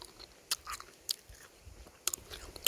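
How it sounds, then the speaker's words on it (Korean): A crunchy apple being bitten and chewed close up, with four sharp crisp crunches spread unevenly over a few seconds against a quiet background. "7월 9일 사과를 먹다니."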